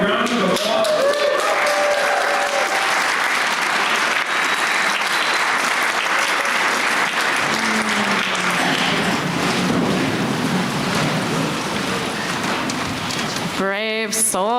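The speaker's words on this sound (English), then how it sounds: "And let's give them a round of applause." A church congregation applauds to welcome new members, a sustained full round of clapping that fills the room and tapers off near the end.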